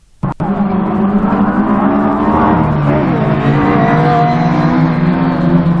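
Autograss stock hatch class race cars racing on a dirt track, engines revving loudly and continuously after a sharp opening knock, with a strong steady roar and shifting pitch.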